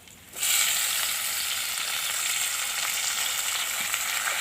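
Gongura leaves hit hot oil in a pan, two spoons of oil, bursting into a loud, steady, close sizzle that starts abruptly and holds evenly to the end, with no talking.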